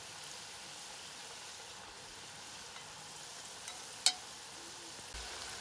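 Fries frying in oil, a soft, steady hiss and crackle heard from a distance, with one brief sharp tick partway through.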